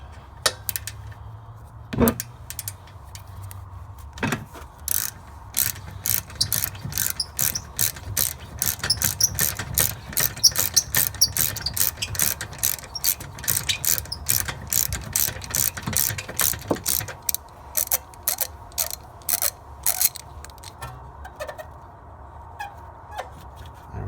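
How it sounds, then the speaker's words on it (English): A ratchet with a 7 mm Allen tool loosens brake bolts on a BMW E46 3-Series, producing a long, fast, close series of sharp clicks in steady bursts and little else. "So if you can get your 7 millimeter Allen tool and a ratchet, we'll go ahead and remove those, and we'll loosen them counterclockwise"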